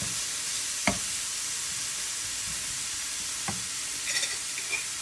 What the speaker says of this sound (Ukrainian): та це ми перемішуємо. І прожарюємо.